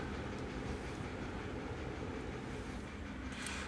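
A train in the Captain of Industry video game runs with a steady, dense low rumble and rolling rail noise that holds constant throughout, with no talk over it.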